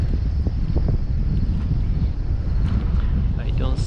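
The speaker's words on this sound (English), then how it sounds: "It's windy, guys. We still have the Hurricane Ida effects going on" Strong gusty wind from Hurricane Ida buffets a fishing boat, a loud continuous roar battering the microphone throughout, with people's voices faintly mixed in beneath the blustery noise.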